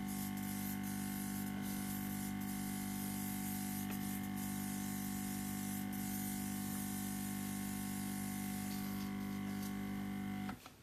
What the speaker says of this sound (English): That's enough airbrushing before I die.